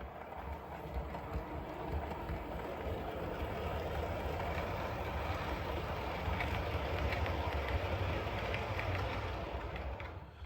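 A model railway train running along a layout, a steady close rumble with faint clicking of wheels over the track, level throughout with no voices.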